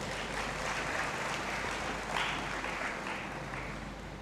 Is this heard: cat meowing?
no